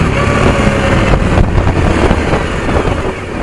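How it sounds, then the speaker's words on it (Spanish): A Suzuki V-Strom 1000 motorcycle pulls away in first gear, its engine a loud low rumble mixed with heavy wind buffeting on the microphone, surging and then easing slightly. "Es una moto bastante fuerte. Ahorita vamos a tratar de calarla aquí poquito."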